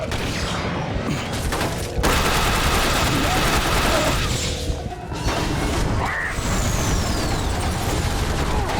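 Gunfire and combat noise from The Bureau: XCOM Declassified, a shooter video game, come as loud, dense bursts of shots with crashes and mechanical blasts, mixed with game sound effects.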